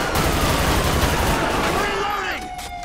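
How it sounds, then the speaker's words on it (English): Gunfire from a security guard in the video game GTA 5 rattles out in loud, dense rapid bursts that stay close and continuous for about two seconds, then thin out near the end. "Why is the security guard shooting at us?"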